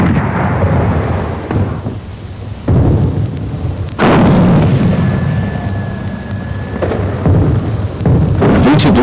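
Massed artillery bombardment from over 1,500 guns shelling German lines along a 32-kilometre front in June 1916: deep, rolling booms and heavy thunderous blasts overlap in waves, with a continuous low rumble beneath.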